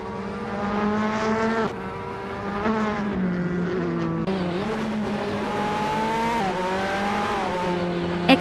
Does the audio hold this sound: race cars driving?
yes